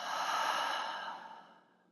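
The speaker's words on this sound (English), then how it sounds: "Taking a deep breath in and a deeper breath out." A single deep, slow breath is let out in a soft, airy sigh close to the microphone, then it tapers off into silence.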